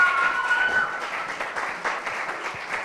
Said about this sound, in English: Please give the panel a very big round of applause for your comments.